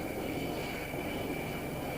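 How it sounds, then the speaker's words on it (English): Military jet aircraft being catapulted off an aircraft carrier deck, a steady loud engine roar with broadband rushing noise and a persistent high tone, no voices. "Different types of aircraft leave the carrier."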